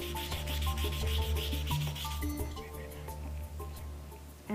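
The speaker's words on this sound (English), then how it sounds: "I used the sandpaper to make it smooth." Sandpaper rubs steadily against a sculpture to smooth its surface, a continuous close scratchy friction with low hum underneath and a voice talking over it.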